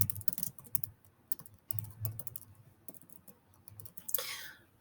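A name being typed on a computer keyboard: quick, soft, close clicking of keys in uneven bursts, fairly faint overall with brief pauses between runs of keystrokes.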